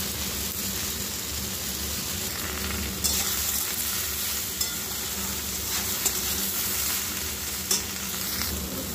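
Cabbage, spinach and dried shrimp fry lightly in a pan with a little turmeric, giving a steady close sizzle with occasional stirring scrapes and knocks throughout.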